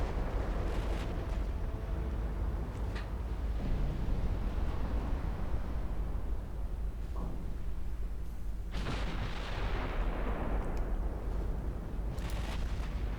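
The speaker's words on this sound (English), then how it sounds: "Torpedoes are going out." Warships launching torpedoes in the naval strategy game Ultimate Admiral Dreadnoughts, with continuous rumbling battle noise and scattered booms and bursts of gunfire layered over it.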